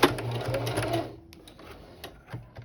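A sewing machine runs a back stitch on a cosplay vest, a short steady mechanical whir for about a second, then stopping, followed by faint clicks and a brief restart near the end.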